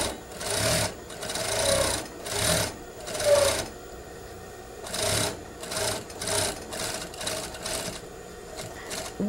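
Short bursts from a sewing machine stitching cording into bias trim, each run of stitches a quick mechanical whir that stops and restarts several times in an uneven rhythm, close and clear.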